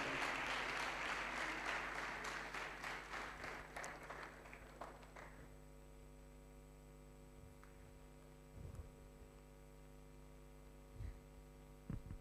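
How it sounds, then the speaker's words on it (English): Applause for the lead at a youth empowerment event, a burst of clapping that fades away after about five seconds over a constant electrical mains hum. "Clap hands for our lead, our EmpowaYouth lead."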